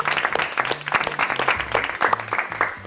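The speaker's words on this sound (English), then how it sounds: "Let's give him a round of applause." An audience claps for a grand prize winner at a toolkit giveaway event, with brisk, uneven applause from a modest group throughout and a low hum of voices beneath it.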